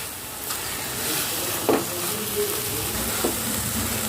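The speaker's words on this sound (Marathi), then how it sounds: "आणि आता हे मिश्रण कोरडं होईस्तोवर आपल्याला छान शिजून घ्यायचं आहे" Bottle gourd burfi mixture cooking down in a kadai: a steady close sizzle with a few sharp scraping stirs of a spoon against the pan, and no voices.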